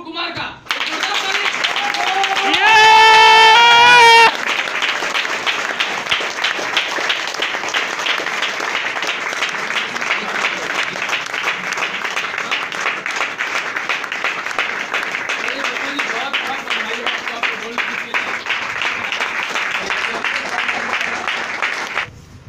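A crowd at a Safe Shop (Evolve India) event applauds steadily as leader Mr Pappu Kumar Das is welcomed onto the stage, with a brief burst of music near the start and voices mixed into the sustained clapping.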